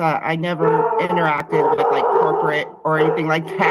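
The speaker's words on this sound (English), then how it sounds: "Sorry about my dogs." Dogs whining and yipping in the background of a live political call-in broadcast, faint yelps mixed under a man's continuous, clearly dominant speech.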